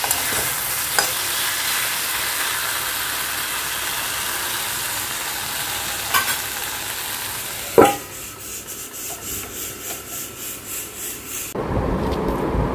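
Meat curry sizzling in a pan on a gas stove, with a constant frying hiss, occasional scraping clicks of a stirring utensil, then a softer rhythmic pulsing before the sound cuts off.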